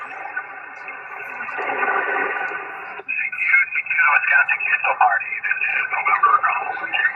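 HF ham radio reception inside a Ford F-150 with DNR noise reduction switched on: hissy band noise gives way to a cleaner, filtered voice coming through the radio, fairly loud and close.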